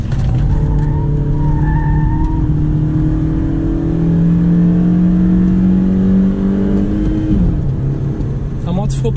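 A manual Honda Civic G8 accelerating on the road, its engine note rising steadily through the gears. The loud, close drone is inside the car, with a brief shift and a voice talking under the engine.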